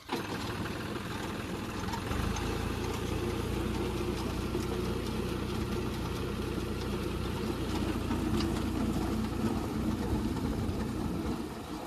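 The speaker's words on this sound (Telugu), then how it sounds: "ట్రాక్టర్ కూడా స్టార్ట్ అయిపోయింది." A farm tractor engine runs steadily in a field setting, a loud, continuous low rumble with a knocking idle that holds evenly throughout, with no talking.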